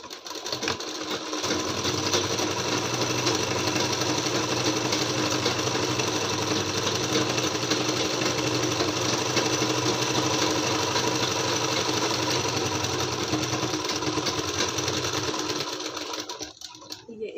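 A sewing machine runs continuously for a long, steady stretch while stitching the side seam of a lined net kurti, giving a loud, even mechanical whir that stops near the end.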